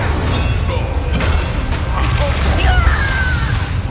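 A rumbling, booming blast from the Incendio fire spell during a spell-casting battle in Hogwarts Legacy, continuous and loud across the whole moment with crashing debris layered in.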